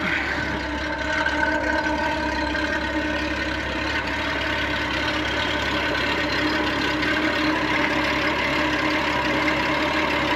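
A Honda Goldwing motorcycle idles steadily nearby, its leaking exhaust giving a constant rough, puffing rumble with no talking.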